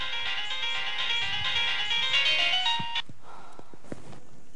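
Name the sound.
phone ringtone, incoming call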